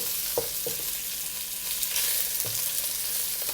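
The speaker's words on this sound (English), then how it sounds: "Move them around, melt the sugar, caramelize the rock sugar so that the color later will stick on the pork beautifully." Rock sugar melting and caramelizing in a hot pan while being stirred, giving a steady low sizzle with a few soft scraping knocks from the stirring, alone with no talk.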